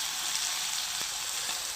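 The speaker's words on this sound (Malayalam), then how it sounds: "ചിക്കൻ അല്ലേ നന്നായിട്ട് ഞെരിച്ചിട്ട് പൊരിക്കുക." Chicken fries in a pan with a steady, dense hiss of sizzling oil close up, broken by a couple of faint taps.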